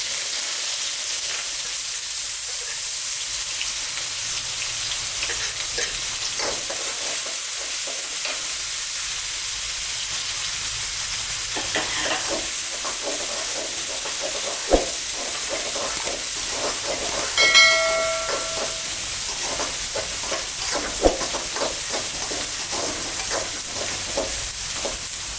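Onion and chana dal frying in hot oil with popped mustard seeds, a steady loud sizzle and hiss with occasional stirring scrapes and clinks, no voices.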